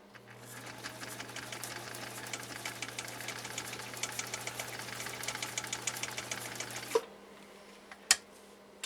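A Husqvarna Viking 19E sewing machine runs a 3-point zigzag stitch with a fast, rhythmic mechanical whir and patter for about seven seconds, then stops abruptly, followed by a brief quiet and a single sharp click.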